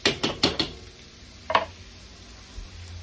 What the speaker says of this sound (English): Stirring it around so that oil coats the cabbage.